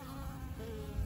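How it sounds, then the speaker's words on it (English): Honey bees fly around an overwintered hive, a brief close buzzing hum of several insects passing near, with no talk. "the bees are flying fine."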